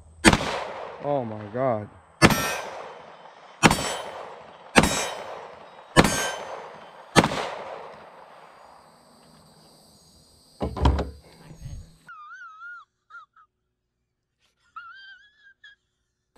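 Five sharp pistol shots from a PSA Dagger Glock-clone pistol at targets, spaced about two seconds apart, each ringing out then decaying, followed by fainter clanks and a brief exclamation from a voice.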